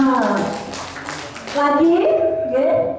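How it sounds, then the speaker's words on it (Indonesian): Audience of parents and teachers at a school session claps briefly, a light patter of hands under voices, with speaking and a voice rising over it toward the end. "Tepuk tangan untuk Bapak Ibu semua."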